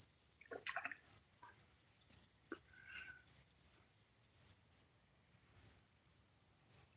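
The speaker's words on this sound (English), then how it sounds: "Sitting out here, listening to the crickets and everything, you can't beat it." Crickets chirp in short, high-pitched bursts, repeating steadily and fairly close, with a few faint clicks and rustles in the quiet background.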